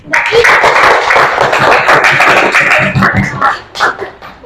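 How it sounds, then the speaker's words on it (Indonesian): Schoolchildren in a classroom clapping together, loud and close, with the applause mixed with some voices and fading toward the end. "Kasih tepuk tangan dulu."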